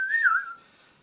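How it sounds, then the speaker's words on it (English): A single short whistled tone, clear and close, bending slightly in pitch before fading out within about half a second, with no one talking. "and just like whistling."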